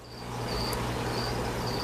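Crickets chirp steadily in a Florida bait shop, a continuous high trill with faint repeating pulses over a low hum of background noise.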